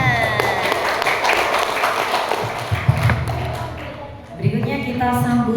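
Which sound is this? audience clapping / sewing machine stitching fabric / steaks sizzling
audience clapping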